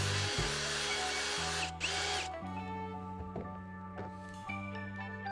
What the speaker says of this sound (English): we're going to just take a drill and bore some holes